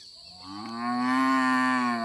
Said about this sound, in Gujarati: અહીંયા ગાય રહી દેખ